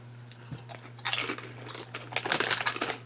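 Close crunching and biting of Lay's kettle cooked potato chips, a cluster of brittle snaps followed by steady chewing crunches over a low constant hum, with no talking.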